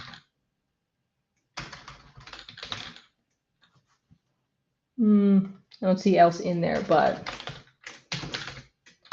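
Typing on a computer keyboard comes in quick bursts of clicking keys, close and fairly soft, alongside a person speaking.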